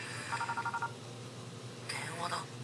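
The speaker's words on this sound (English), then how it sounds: "Oh, that's my phone." A phone rings in two short bursts of trilling electronic tone, the first brief and the second longer, faint and sitting over a steady low background hum.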